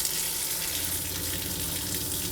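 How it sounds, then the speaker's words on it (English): Cold water running from a shower in an off-road camper after a night of freezing temperatures, a steady hissing spray that stays close and even from start to finish, with no talking. "Ooh, we got cold water."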